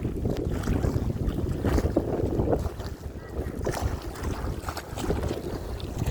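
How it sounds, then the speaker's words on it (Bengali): Riverbank waves lapping continuously against the shore, mixed with steady wind buffeting the microphone, moderately close with no clear pauses. "ঢেউ কি ভালো লাগে দেখো ভাবি, এগুলো সুন্দর, শব্দটা কত সুন্দর"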